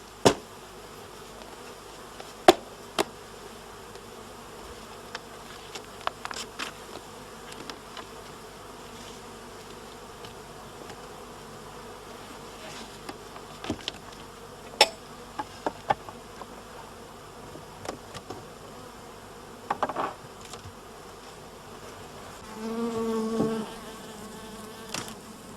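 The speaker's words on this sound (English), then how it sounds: "the bees are shaken into the empty brood chamber and the hive is closed up" Faint buzzing of honey bees being shaken into an empty brood chamber hums in the background with scattered soft knocks and clicks, one louder burst of buzzing near the end.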